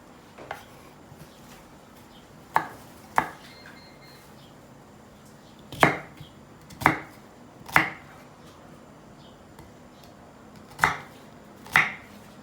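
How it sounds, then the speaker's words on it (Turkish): A knife chops garlic on a cutting board in sharp, irregular strikes, sometimes in quick pairs, with quiet gaps between and no talking. "İçine iki dişte e, sarımsak doğrayacağız."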